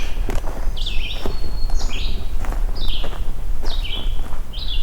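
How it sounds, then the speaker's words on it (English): A red-eyed vireo sings short, repeated phrases on an overcast morning, several distinct whistled bursts spaced about a second apart, heard over steady outdoor background noise with soft footstep-like thuds. "I'm going to walk past this red-eyed vireo"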